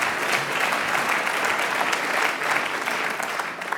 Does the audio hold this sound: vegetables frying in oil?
no